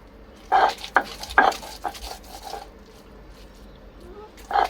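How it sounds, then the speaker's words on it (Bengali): Leafy stem greens and green chillies are crushed into a bharta with potato and jackfruit seeds, making rough rhythmic scraping and grinding strokes in bursts, loud and close, then fading to quieter rubbing. "টেস্টের জন্য একটু বেটে নিলাম শাকটা।"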